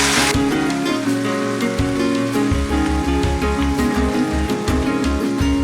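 Ghee added to a little hot oil for tempering in a Badshahi aloo dum pan gives a loud, close, continuous crackling sizzle like steady rain, with no talk over it.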